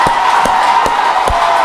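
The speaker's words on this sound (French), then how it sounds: "Applaudissons pour le Seigneur." A congregation at a French-language Sunday church service, a loud crowd with a steady hum of voices and strong, evenly spaced rhythmic claps.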